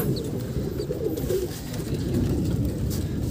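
Pigeons in a rooftop breeding loft with young squabs keep up a low, steady cooing, a dense murmur of several birds close by with no speech.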